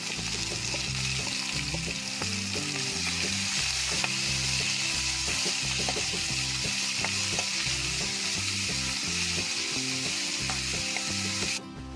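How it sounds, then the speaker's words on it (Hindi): Onions sautéing with black peppercorns and cloves in a kadai: continuous loud sizzle and frying hiss with scraping stir strokes repeating rhythmically, steady throughout until a slight drop at the very end, no talk. "अब इसमें हम अनियन डालेंगे और इसको भी सौटे कर लेंगे।"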